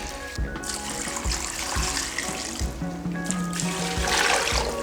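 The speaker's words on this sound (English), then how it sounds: "now let's go with some water and get this all nice and boiling." Water splashes and trickles steadily into pans for making stock in a kitchen, a continuous pouring sound with a few soft clunks of cookware underneath.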